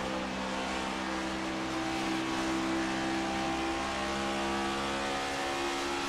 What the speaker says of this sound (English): He is on the clutch right there. You hear that?